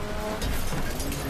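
Cars in the Wreckfest racing game rev and grind together in a brief, loud burst of engine noise, tire scrub and impact clatter.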